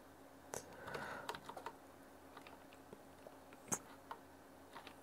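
A folder name being typed on a computer keyboard, soft, quick keystrokes in a short irregular run against a quiet room hum, faint and close, with no voices.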